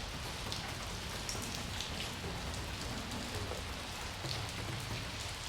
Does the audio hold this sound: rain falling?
yes